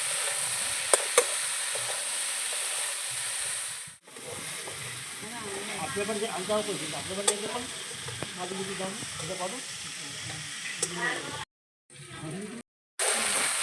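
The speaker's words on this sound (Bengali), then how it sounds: "ভালো করে সব একসঙ্গে কষাবো" Pui metuli being sautéed and stirred with spices in a rustic kitchen pan, giving a steady sizzle with rhythmic scraping strokes, interrupted briefly by a couple of short silent gaps.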